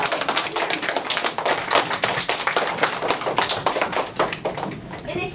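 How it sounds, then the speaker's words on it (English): A small audience claps steadily for Vennela after her performance, a sparse, moderately close patter of hands lasting several seconds with individual claps audible. "let's give Vennela a big round of applause."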